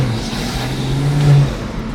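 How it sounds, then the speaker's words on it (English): A Toyota Supra's B58 engine with a CTS turbo intake gives a loud, close turbo spool, a rising whine and whoosh that swells briefly and then eases back over the engine drone. "Oh, I know y'all hear that turbo."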